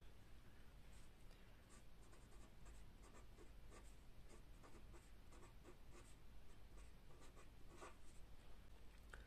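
Chalk or marker writing on a board during a maths lesson, with a quiet run of short, rapid scratching and tapping strokes; faint and steady, with no talking.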